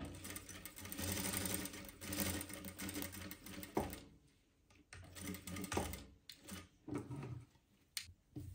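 A sewing machine sews a seam down the middle of a velvet kurti blouse, whirring in uneven stretches with brief stops and small mechanical clicks, quiet and close with no talking.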